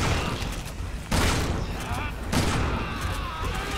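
Shotgun blasts in Resident Evil 6, with two sharp loud bursts a little over a second apart over busy game background noise.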